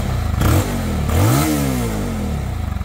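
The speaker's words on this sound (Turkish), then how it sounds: "Şimdi motora gaz veriyorum. Motorumuzun sesi böyle." A Yuki GP2 motorcycle engine is blipped twice in quick succession, each rev climbing sharply and falling back to a loud, lumpy idle, recorded close by.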